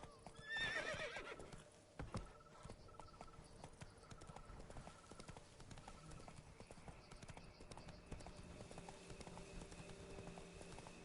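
Roach the horse in The Witcher snorts or whinnies once at the start, then trots on with a steady, fairly quiet clip-clop of hooves.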